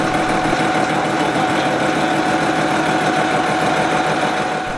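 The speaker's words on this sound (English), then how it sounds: "Raise the table 40 thousandths of an inch and take a conventional cut." A milling machine takes a conventional cut on a cap, producing a loud, steady, rapidly pulsing mechanical whir that holds unbroken throughout.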